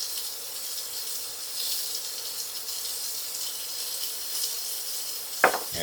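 Beef pieces searing undisturbed in a hot pan, giving a steady, even sizzle that holds throughout, with a short sharp clink near the end.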